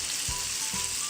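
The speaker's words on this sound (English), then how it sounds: "Yeah, it's bubbly, that's a nice boil." A pot of creamy tomato lemon sauce simmering on a stovetop, giving a steady close bubbling sizzle with two soft low pops about half a second apart.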